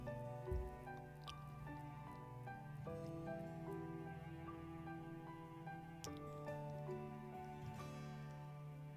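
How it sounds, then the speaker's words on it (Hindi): Rice cutlets made from leftover rice sizzle and bubble gently in hot oil, a steady soft crackle with scattered drips running the whole time against a faint tonal hum. "ये देखिए धीरे धीरे इसको आप ऐसे ही फ्राई करेंगे"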